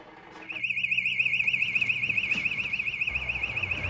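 A loud electronic alarm sounds continuously, a steady warbling tone that starts abruptly and holds on without a break.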